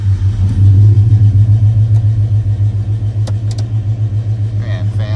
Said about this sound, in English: You'll hear the RPMs kick back up when I shut it off.